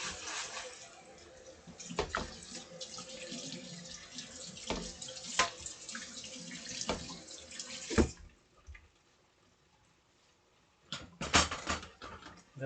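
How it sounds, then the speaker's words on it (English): Hot tap water runs and splashes into a sink as a pot is washed with soap, in uneven gushes and spatters. It pauses for a few seconds, then the water comes back in a short burst. "So wash with soap and water, Hot water this time."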